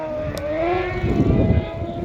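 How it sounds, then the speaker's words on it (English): A crosskart's small motorbike engine revs high and strains with a rising whine climbing a hill, loud and close, with rumbling mechanical noise underneath. "A little motorbike engine in that, screaming its way up the hill."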